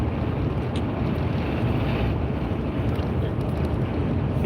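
Strong wind blowing steadily outdoors on a cold night near Summerland, a loud, continuous rushing roar buffeting the microphone throughout with no pauses.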